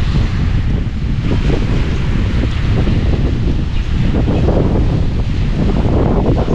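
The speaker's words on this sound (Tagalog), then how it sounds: "kasi hangin eh" Strong wind buffets the microphone in a steady, loud roar throughout, outdoors near a fish pond with open water.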